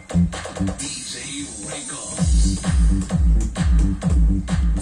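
Music with a pounding, booming bass beat plays loudly through a 12-inch, 1200-watt Joson D8 speaker, with rough noise over it early on.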